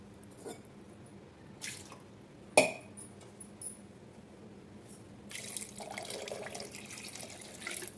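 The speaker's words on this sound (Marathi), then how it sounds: "ह्याच्यामध्ये आणखी थोडं पाणी टाकायचं" Water poured into a pot of kadhi makes a short splash, then a few drips and clinks, and a longer soft trickle of liquid near the end, close and quiet, with no talking.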